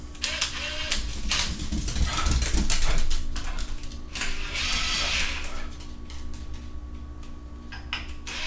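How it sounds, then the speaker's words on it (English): A handheld screw gun drives bolts on an LSA supercharger assembly for a C5 Corvette LS1, with short bursts of whirring and ratcheting close by, and a dog whimpers faintly in the background. "Get all these started before I take the screw gun to them"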